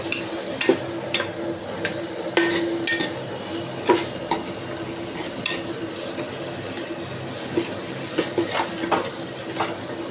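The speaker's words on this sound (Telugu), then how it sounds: "అల్లం వెల్లుల్లి పేస్ట్ కొంచెం వేసి పచ్చివాసన పోయేంత వరకు బాగా వేయించుదామండి" Ginger garlic paste fries in a pan with a steady sizzle, and a spoon clinks against the pan while stirring at irregular intervals throughout.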